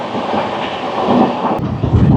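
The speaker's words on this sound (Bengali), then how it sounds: "হাই স্পিডে যাচ্ছে আমাদের ট্রেন।" Rajdhani Express running at high speed, a loud continuous rumble of wheels and carriage with rhythmic rail clatter and a brief sharp click midway, heard from inside the train.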